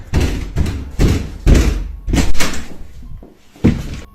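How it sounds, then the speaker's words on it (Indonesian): Loud, close banging on a door at night, a series of heavy knocks and thuds in irregular bursts with short pauses between them. "bunyi pintu dipukul-pukul"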